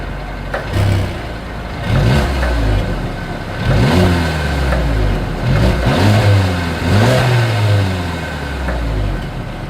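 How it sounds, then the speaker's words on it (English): A 2022 Mercedes-Benz CLA 250 with dual exhaust revs repeatedly from idle, each blip rising and falling in loud, close bursts with no talking. "As always, here is that exhaust clip."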